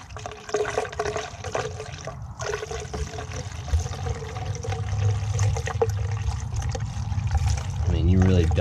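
Water pours steadily into the block of a Chevy 5.7 engine during a radiator flush and thermostat job, a continuous close trickle and splash with someone talking over part of it.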